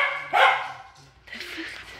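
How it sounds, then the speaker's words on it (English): One sharp, close dog bark rings out, followed by faint rustling and a soft, high yip or whine in a quiet room. "what are you barking at?"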